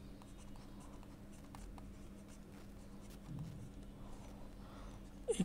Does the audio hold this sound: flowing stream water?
no